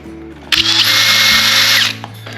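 A small power drill whirs loudly for about a second and a half, drilling a hole in a table tennis ball, starting abruptly and winding down, with a quiet hum before and after.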